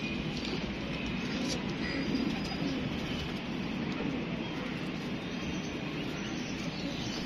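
Pigeons coo softly from a keeper's loft of hand-picked and numbered birds, the low calls buried in a constant wash of broadband background noise with no talking.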